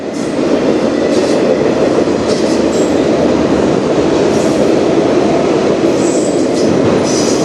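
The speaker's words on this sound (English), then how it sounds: "nice train though overall" A freight train on the Strathroy Subdivision rolls steadily past close by, its loud broadband rumble and clatter constant throughout, with occasional wheel squeal and high metallic ringing.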